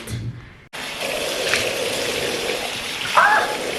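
Tap water runs steadily into a bathroom basin during face washing, a continuous close gushing hiss that starts abruptly after a short pause and continues to the end.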